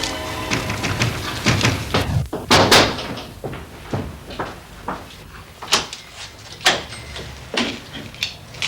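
A door being opened and closed in a residential building, a series of sharp wooden knocks, clunks and latch sounds, close and loud, with faint voices in the background.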